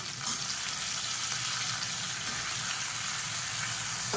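Drumsticks and eggplant sauté in an oiled pan for sambar, giving a dense, steady hiss and sizzle that holds evenly from start to finish, close and moderately loud.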